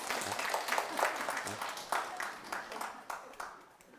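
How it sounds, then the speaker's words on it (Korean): Applause from an audience at a teacher-exam strategy seminar, a steady patter of many hands clapping at moderate volume, with some voices mixed in and the clapping fading slightly toward the end. "박수 한번 쳐야지 이때"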